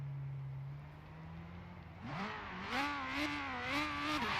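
A Ferrari F355 Berlinetta in a Forza Horizon 3 racing game idles with a low steady drone, then revs hard, its pitch climbing and wavering through several shifts, loud and close.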